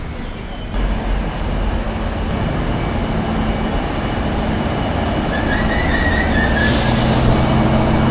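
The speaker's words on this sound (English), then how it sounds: "here comes our train now." A train rumbles steadily and loudly throughout, with a brief high squeal of wheels near the end, as it pulls into a station platform close by.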